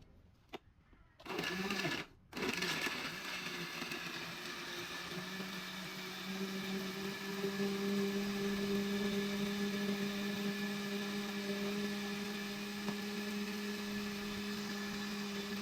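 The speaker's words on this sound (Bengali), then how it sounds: "এখন আমরা যেমন মেশিনের মাধ্যমে ব্লেন্ডার করবো" A motorised appliance whirs steadily with a strong low hum after a couple of brief starts, running continuously and fairly loud close by.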